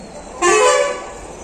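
A vehicle horn on a street at Sealdah in Kolkata gives one short, loud, close honk against steady traffic background.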